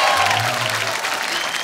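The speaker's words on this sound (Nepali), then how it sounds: "यति ताली बजाइदिनु न" A comedy club audience claps throughout, a thick continuous patter of many hands at fairly high loudness with no talking on top.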